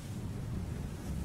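Storm-driven wind and rough waves off the Irish coast during a winter windsurfing contest, a dense low rushing roar of gusts buffeting the microphone and surf churning steadily, with no voices.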